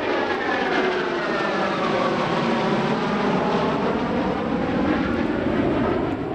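Two F-15 fighter jets fly a two-ship demonstration at the Cleveland National Air Show, their engines a loud, sustained roar with a shifting whine that sweeps in pitch as they pass overhead, steady throughout with no voices.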